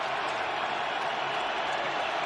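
An away stadium crowd at an NFL game between the Arizona Cardinals and the Dallas Cowboys makes a continuous, dense roar that stays steady and loud for a couple of seconds.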